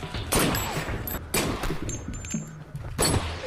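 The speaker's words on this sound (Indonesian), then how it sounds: "langsung mengambil senapan dan mencoba melayangkan beberapa tembakan ke arahnya" Rifle shots fired in a film scene ring out as several sharp, loud bursts spaced about a second apart, each with a short echoing tail, over a low background rumble.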